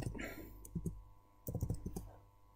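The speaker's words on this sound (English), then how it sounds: "We just type into Google PiXL" Keys on a computer keyboard click in short, light clusters, quiet and close, with small gaps between bursts and no talking.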